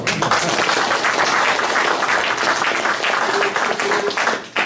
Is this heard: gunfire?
no